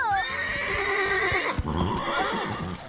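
A cartoon horse gives a long, loud whinny over clip-clopping hooves in an animated riding scene, with the hoofbeats continuing after the neigh.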